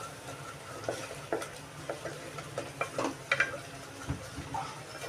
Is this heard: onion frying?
yes